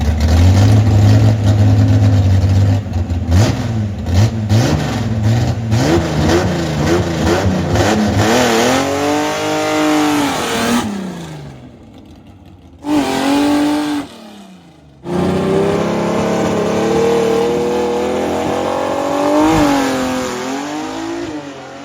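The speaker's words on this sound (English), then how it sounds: "under the hood is a Ford inline 6 cylinder with 2 carburetors, makes great horsepower, and makes some pretty cool noises too" A Ford inline six-cylinder with two carburetors, fitted in a Ford Anglia gasser drag car, revs hard and repeatedly, rising and falling in loud throttle blips, then cuts off sharply and barks back to life.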